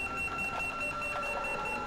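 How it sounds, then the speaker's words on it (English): Buzzer at an underwater hockey match, a steady sustained electronic tone sounding throughout at low level, heard from a distance. "Yeah, the buzzer's gone."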